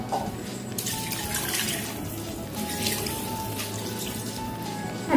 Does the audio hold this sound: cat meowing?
no